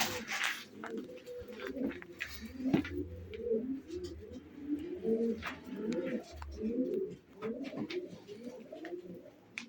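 Several pigeons coo in overlapping, rhythmic throaty phrases, fairly close, with faint rustling and occasional chirps in the background.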